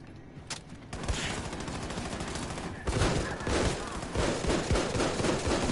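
Rapid gunfire in a World War II shooter game, bursts of shots that start sparse and then build into a dense, continuous volley with loud cracks near the end.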